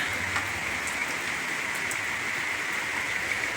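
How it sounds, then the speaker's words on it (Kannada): Steady rain falls at night with no wind or thunder, a dense even hiss of drops on surfaces heard close and continuous, with a few faint distinct drips. "ಈಗ ರಾತ್ರಿ ಫುಲ್ ಮಳೆ ನೋಡ್ರಿ ಗಾಳಿಲ್ಲ ಗುಡುಗಿಲ್ಲ ಸಿಡಿಲ್ಲ ಸಂಪಮಯ ಮಳೆ"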